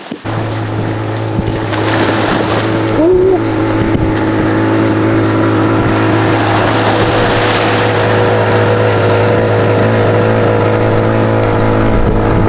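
A steady, loud motorboat engine drones on the water off Jamaica with a low constant hum and rushing spray, and a voice briefly exclaims.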